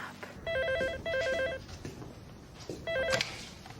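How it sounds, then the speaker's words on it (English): An electronic telephone rings in three short warbling bursts with pauses between, moderately loud indoors over a faint background. "Come on, Tess, pick up"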